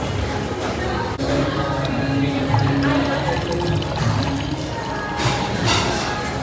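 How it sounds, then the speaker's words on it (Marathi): Water pours from a copper vessel in a busy Pune cafe, a steady trickling stream under loud crowd chatter and people talking nearby. "तांब्याच्या भांड्यातून पाणी डायरेक्ट जाईल तिथं प्यायला."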